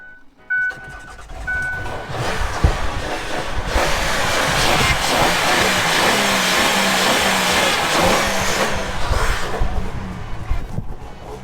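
A van engine, just jump-started after sitting unused for a year, revs loudly and steadily for several seconds, rumbling and surging as the throttle is held open, with a short click at the start.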